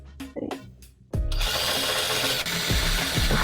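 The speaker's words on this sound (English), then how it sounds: "We're back to drilling again." A power drill bores into the metal case of an HP PC 570 desktop, starting after a few short clicks and taps, then running as a loud, steady whine with slight dips in pitch as it bites.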